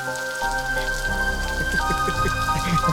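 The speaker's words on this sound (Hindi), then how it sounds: "अचानक से बारिश होने लगी।" Sudden rain begins falling, a patter of drops on surfaces that thickens quickly and carries on steadily, close and moderately loud, with a faint musical tone underneath.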